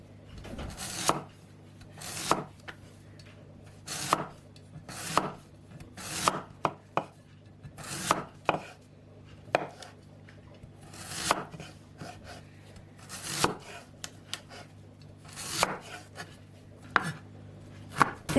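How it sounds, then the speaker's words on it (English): A knife slices white radish into thin pieces on a cutting board, for turnip cake. Sharp, evenly spaced chops land close and clear, about one per second, with brief pauses and no talking. "Cut the white radish in thin slices."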